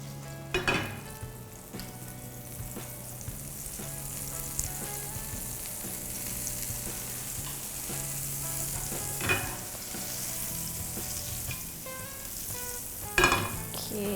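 Butter sizzles steadily, spread across a frying pan for French toast, a soft constant crackle with occasional scrapes and clinks of a utensil against the pan.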